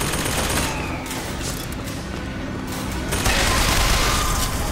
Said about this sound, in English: Let's go over here and throw a bomb at it.